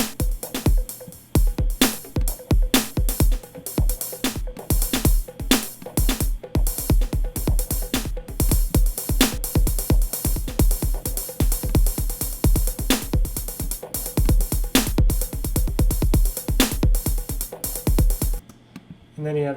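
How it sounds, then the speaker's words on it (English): Funky electronic breakbeat from the lava map drum pattern in Reason, hot and fluid, with busy syncopated kicks, snares and hats grooving steadily before stopping abruptly near the end. "Then you have this lava map, which is described as hot, fluid, funky breaks and grooves."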